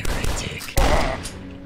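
Shotgun blasts in the Dusk video game: two heavy, loud booms about three-quarters of a second apart, each with a ringing tail over dense game noise, close and punchy.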